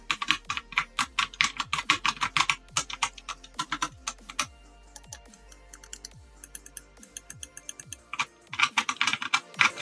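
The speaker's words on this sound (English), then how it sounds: "The keys themselves here are mechanical." Fingers type on the mechanical Stealth keys of a Razer Orbweaver Chroma keypad, close and crisp, in quick bursts of muted clacks separated by brief pauses.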